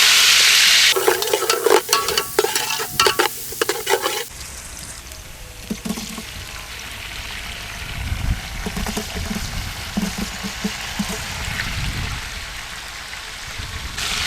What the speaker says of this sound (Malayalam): നമ്മൾ ഓയിലിൽ കൂടെ നെയ്യും കൂടെ ഒഴിച്ചിട്ട് നമുക്ക് ഗ്രേവി ഉണ്ടാക്കിയെടുക്കാം. ഉള്ളി ഇട്ടെടുക്കാം.